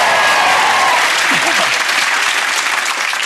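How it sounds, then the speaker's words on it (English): A live audience at a comedy show cheers and applauds loudly and steadily throughout, a dense wash of clapping with a few shouts rising through it. "Let's have a big cheer for Tom and Jerry!"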